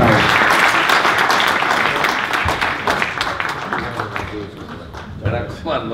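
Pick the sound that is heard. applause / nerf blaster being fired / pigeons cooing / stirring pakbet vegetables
applause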